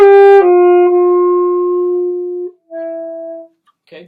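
Alto saxophone plays the opening two measures plus pickup without vibrato. Sustained, steady, close and loud tones with a short pickup note, a long held note, a brief break, then another held note.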